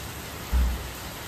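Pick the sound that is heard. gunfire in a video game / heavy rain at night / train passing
heavy rain at night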